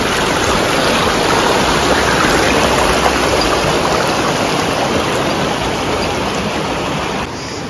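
Rushing river water flows steadily and loudly at a crossing point in Crete, a dense continuous wash of noise with no voices.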